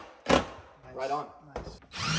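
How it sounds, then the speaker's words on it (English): A power drill drives a screw into wooden framing while installing a farm sink, heard as short bursts of whirring, loud and close, mixed with a little talk. "we're going to take another screw and we're going to drive it into the framing"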